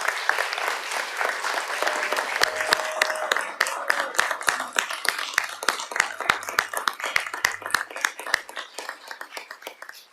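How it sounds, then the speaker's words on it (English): Council meeting audience applauding the teachers and arts education staff of Peoria Unified School District, sharp individual claps rising into steady applause that thins out into a few scattered claps before fading. "Please join me in applauding the outstanding teachers and arts education staff of Peoria Unified School District."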